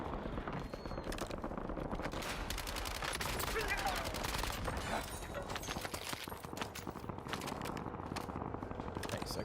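Continuous rattling automatic fire from an enemy in Warzone, dense rapid cracks running throughout at moderate loudness with someone talking over it.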